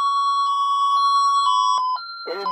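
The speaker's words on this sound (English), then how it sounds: "Now it's on the alarm." A SafeWatch Pro 3000EN security system sounds a loud, piercing electronic alarm tone, pulsing in rapid repeated beeps, followed by a brief synthetic voice.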